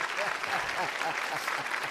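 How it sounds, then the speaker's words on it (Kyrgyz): An audience at a comedy show clapping, a dense steady burst of applause from a crowd that lasts the whole moment without a break. "Айылдыктар бар болсун, кол чабып калган."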